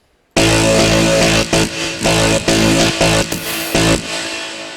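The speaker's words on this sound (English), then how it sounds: "And so we have this FM bass that sounds like this." A loud, buzzy FM synthesized trance bass line made in FL Studio plays continuously with rhythmic pulsing accents, dense and gritty, with no voices.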